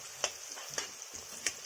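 Curry leaves and turmeric fry in hot oil for masala ivy gourd, a soft steady sizzle heard close by, with a few light, distinct pops spaced at irregular intervals.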